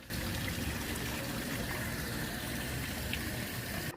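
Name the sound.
water flowing from above into a wishing fountain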